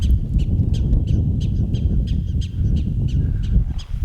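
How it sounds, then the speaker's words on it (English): Rapid high-pitched chirps repeat steadily from several prairie dogs, sharp squeaky calls over a low rumble of wind or handling noise, on a South Dakota hiking trail. "we're gonna be serenaded here for the foreseeable future by prairie dogs"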